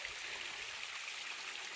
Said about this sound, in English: But this is one of our waterfalls.